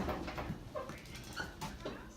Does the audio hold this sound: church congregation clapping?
no